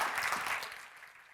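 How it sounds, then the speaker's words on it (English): Applause from a summit audience after a pitch presentation, a steady wash of clapping that gradually fades toward the end. "Big applause for Tuba."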